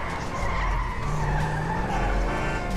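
A car in the video game GTA 5 revs and skids with a sustained tire squeal over a droning engine, loud and close throughout the short burst.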